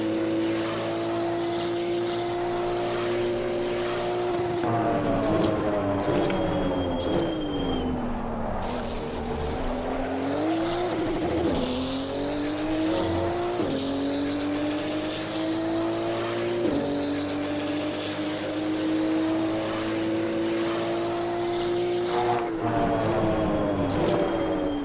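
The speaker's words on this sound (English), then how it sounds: "Porsche exterior sound is always good" A Porsche race car in a racing video game roars from an exterior view, its engine revving up steadily and dropping sharply at each gear shift, loud and continuous.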